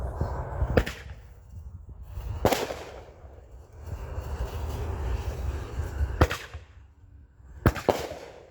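Pro Fireworks consumer artillery shells explode outdoors, four sharp loud booms spaced a couple of seconds apart, each followed by a crackling rumble and echo.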